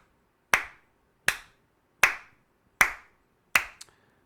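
Five sharp, evenly spaced hand claps keep a steady beat, loud and close in a quiet room with a short decay after each one, and a faint extra tap trails the last clap.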